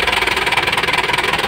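A turbo diesel Isuzu 4JB1 engine that is hard to start and keeps stalling runs with a steady, loud, throbbing pulse, close up, with no talk over it.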